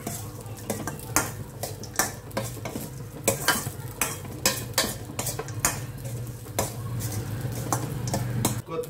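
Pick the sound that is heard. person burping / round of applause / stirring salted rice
stirring salted rice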